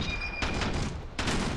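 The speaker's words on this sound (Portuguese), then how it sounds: "eu vou dar um tiro pra cima" Gunfire in the video game Ravenfield, a shot aimed upward: two sharp bursts about three-quarters of a second apart, each cutting through a steady background hum, fairly close.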